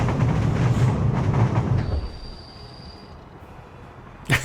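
A train rolling along a railroad in the Soviet Republic video game, a loud steady rumble of wheels that fades away after a couple of seconds, ending with a brief sharp click.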